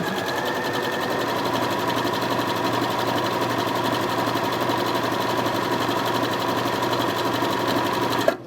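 A sewing machine runs steadily, stitching fabric for a small sewing project with a continuous, even motor whir and needle chatter that holds at a constant loudness, close up, with no talk over it.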